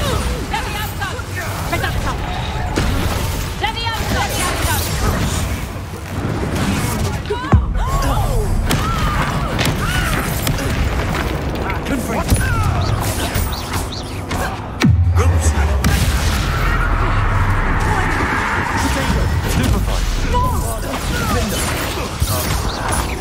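Bombarda blast spell in a wizarding video game: a heavy explosive thud strikes, followed by crashing, rumbling impact debris amid busy game sounds, with another sharp bang later, all fairly loud and continuous.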